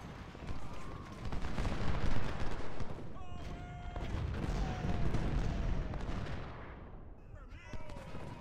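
Cannon and musket fire from a Civil War battle at Bull Run in Ultimate General: Civil War rumbles almost continuously, with dense overlapping shots and booms and a voice talking over it.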